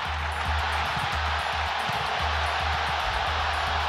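Vitória football supporters in a stadium crowd voice a pitbull growl together, a continuous loud roaring drone from the stands with a low rumbling pulse throughout.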